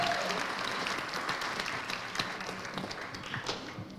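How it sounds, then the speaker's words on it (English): Wedding guests applaud together in a sustained, fairly distant wash of clapping, steady throughout with a few sharper claps standing out. "A round of applause."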